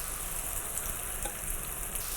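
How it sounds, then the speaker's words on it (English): Batter sizzling in hot olive oil in a pan, a steady, close crackling hiss with faint stirring clicks, carrying on alone without talk. "Look at that sizzle."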